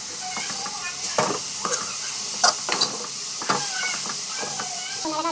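Onion, tomato, coriander, mint and spices are sautéed in a pan with a constant hissing sizzle, punctuated by irregular scrapes and knocks of a spoon stirring the mixture.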